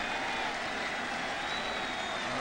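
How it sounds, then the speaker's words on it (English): Baseball stadium crowd at a Cardinals–Astros game cheering and applauding steadily as a pitcher nears a strikeout, a dense, continuous roar of clapping and voices filling the whole stretch. "Crowd starting to get into it."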